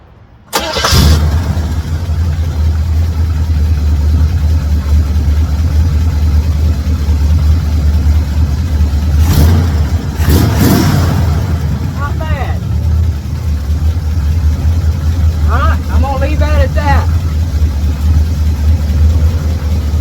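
A 1978 Chevrolet Camaro engine cranks and catches, then settles into a loud, steady rumbling idle close by, with a couple of brief revs; a person speaks faintly near the end.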